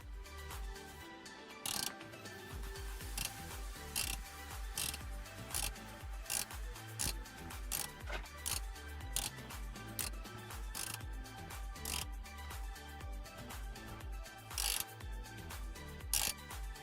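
A ratchet clicks in repeated rapid bursts while tightening the brake hose nut on a 2010 Ford Mustang front strut, close and crisp, with short pauses between strokes throughout.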